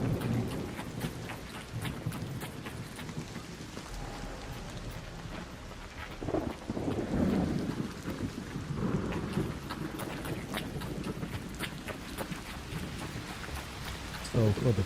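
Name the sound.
thunder from an electrical storm in the video game ARC Raiders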